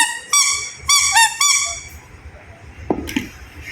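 Toy duck giving off a series of squeaky honking tones, three loud close bursts in quick succession, then quieter clattering and a short rattle.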